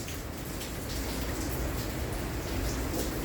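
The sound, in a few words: rain pouring in at the porch door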